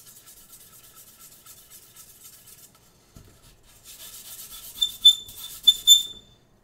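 Charcoal scraping and rubbing across paper while sketching clouds, a soft steady rasp that pauses briefly, then returns as louder, closer strokes with sharp scratchy peaks near the end.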